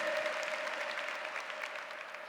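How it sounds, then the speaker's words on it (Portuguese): A church congregation applauds at a Catholic service, sustained faint clapping from a crowd heard at a distance for a couple of seconds with no talk over it. "Aplauda Ele."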